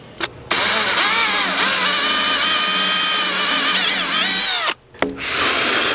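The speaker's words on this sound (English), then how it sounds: "I'm just gonna do a couple of shallow drill holes" A power drill whines steadily as it bores shallow holes into a wooden boat stern post, pitch dipping under load, with brief stops at the start and near the end.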